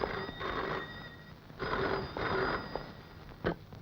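A telephone rings in a Telugu film scene, two quick double-ring bursts with a pause between, fairly clear over a quiet room.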